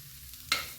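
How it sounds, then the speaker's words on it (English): Broccoli florets sizzle in a hot frying pan, a quiet lull suddenly giving way to a sharp, brief hiss as they hit the heat, then a steady fading crackle. "Get a wee fry on that side, and then I'll add a wee bit of steam."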